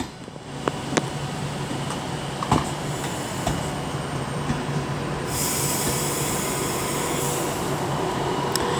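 An Avanti West Coast passenger train rumbles past close by at Wolverhampton on the West Coast Main Line, with a steady rolling roar, faint wheel squeals and clacks, and a brighter hiss building in the second half.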